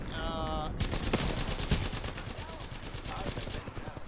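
Rapid automatic gunfire from enemy squads in Apex Legends rattles in quick bursts, mid-distance and steady, with a faint voice beneath the shots.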